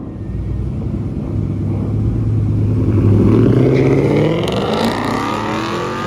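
A Chevrolet Corvette C5 race car accelerates hard at a crowded racing event, its engine rumble building into a loud, rising rev that peaks midway and holds steady, close by.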